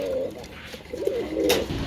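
Pigeons coo in a few soft, repeated phrases at close range, the calls rising and fading with a steady low murmur in between.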